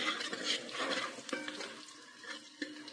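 Masala curry stirred in a pan after chilli powder and turmeric go in, a close, steady scraping and swishing of the spoon with faint frying sizzle underneath and a couple of sharper knocks against the pan.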